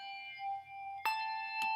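Handbells rung four-in-hand, two bells held in each hand, sound a sustained ringing tone with bright struck onsets partway through, clear and close with no talk.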